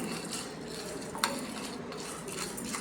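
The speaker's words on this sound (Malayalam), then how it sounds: "ഇനി കടലപ്പരിപ്പൊന്ന് വറുത്തെടുക്കണം" Chana dal, split Bengal gram, dry-roasting in a pan, with a steady low rustle and scrape of stirring and a faint sizzle throughout, plus one sharp clink of a spoon against the pan midway.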